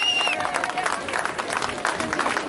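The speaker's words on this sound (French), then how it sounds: "Alors bravo à vous, applaudissez-vous." A large outdoor crowd of about 800 people at a political rally in Nice claps and cheers in a steady, dense wash of applause, with a whistle near the start and a background of voices.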